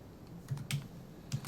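Keystrokes on a computer keyboard entering the ipconfig command: a few quiet, irregular clicks in close succession, alone with no voices.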